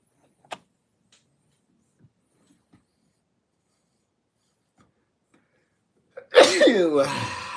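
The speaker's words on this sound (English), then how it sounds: "I think I'm going to sneeze." Near silence with a few faint clicks, then a single loud, close sneeze bursts out at the end.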